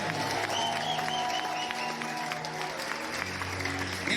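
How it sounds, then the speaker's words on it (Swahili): A church congregation claps together during a Sunday service, steady clapping from the room with faint sustained tones underneath and little talk. "Kama kuna mwenye anaamini achape makofi pamoja."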